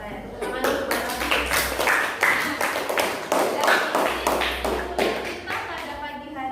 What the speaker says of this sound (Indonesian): Tepuk tangan untuk Pak Raffi.